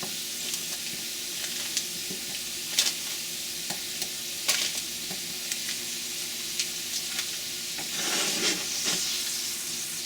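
Cold butter melts into a pork chop pan sauce, with a bubbling sizzle under scattered spoon or spatula clinks and scrapes, growing louder and frothier near the end; close, no voices.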